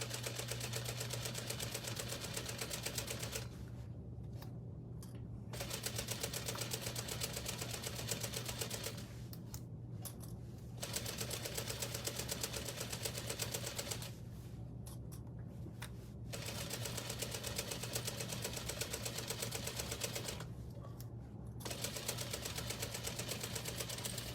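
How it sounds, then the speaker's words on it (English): A sewing machine stitches a canvas tote bag seam in long, steady runs of rapid mechanical whirring, stopping briefly four times for pauses before resuming, close and continuous without speech. "you are just going to continue on down to sew up the other side of the tote"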